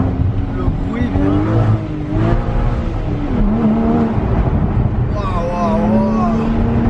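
A Porsche Boxster Spyder with a manual gearbox accelerates, its engine rising in pitch through several gear pulls and dropping on each shift, heard from inside the car under steady talk.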